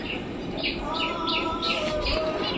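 Soft cooing and chirping from pigeons close by inside a loft, repeating in short phrases over a low, steady background hum.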